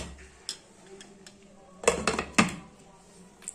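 A lid goes onto a cooking pot in a home kitchen: a few light metallic clinks, then a cluster of louder clanks and a final knock, close and brief over quiet room tone.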